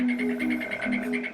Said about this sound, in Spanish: la rana dorada, un anfibio pequeño con un veneno letal